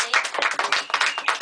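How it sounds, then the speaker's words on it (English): A small group applauds a second-place finish at an FA Cup awards night, a brief burst of close, uneven hand claps with no voices. "So let's give Simon a big round of applause for second place"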